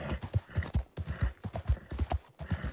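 Horse galloping uphill in Red Dead Redemption 2, a fast steady clip-clop of hooves with an occasional snort or whinny, close and clear with no talk over it.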